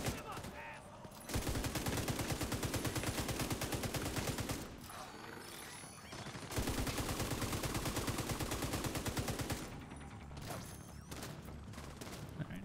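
Rapid automatic gunfire fills The Division 2 video game in two long sustained bursts separated by short pauses, loud and close, with a turret firing among the shots.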